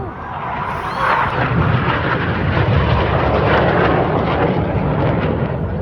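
Red Arrows jets roaring past at an Armed Forces Day air show at Jordanstown Loughshore Park, a loud, steady, rumbling engine roar that fills the whole stretch.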